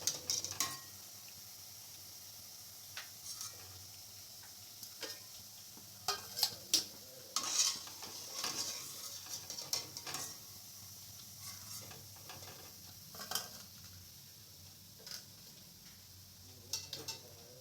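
Semolina gulab jamun frying in hot oil, a faint, steady low sizzle with intermittent clinks and scrapes of a metal spoon as the dumplings are lifted out, quiet and close, no talking.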